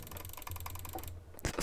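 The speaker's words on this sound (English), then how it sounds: "What about jitter clicking?" Rapid jitter clicking on a computer mouse, comparing a gaming mouse with an office mouse: a dense, steady run of fast close-up clicks lasting about a second, then a brief pause and a louder burst of handling noise.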